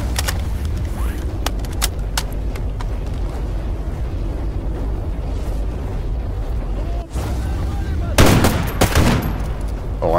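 Gunfire in the shooter game Stalker GAMMA, a few sparse cracks over a heavy constant rumble, then a louder cluster of close shots near the end.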